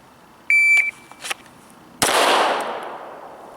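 A handgun fired once after a fast draw from a Comp-Tac Kydex holster at roughly two o'clock, heard as one sharp, loud report with a decaying tail, preceded by a brief electronic timer beep.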